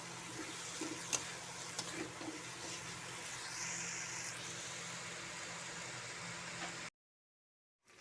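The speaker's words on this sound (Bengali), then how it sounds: "বা কাঁঠাল দিয়ে ভালো করে কষে নেব 10-15 মিনিট।" Potatoes and jackfruit sautéing in a pan for a jackfruit curry give a steady, soft sizzle with occasional stirring scrapes and clinks. The sound is fairly faint and even, then cuts off abruptly near the end.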